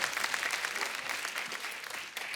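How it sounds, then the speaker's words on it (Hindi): A studio audience on a Hindi comedy talk show breaks into dense, steady applause, loud and even throughout a brief burst with no pause. "एक बार बादशाह और सोनाक्षी के लिए जोरदार तालियां हो जाए"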